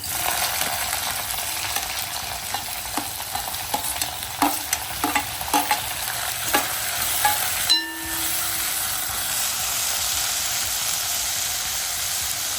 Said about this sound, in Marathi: आपण आता ह्या कांदा आणि टोमॅटो फ्राय करून घेऊया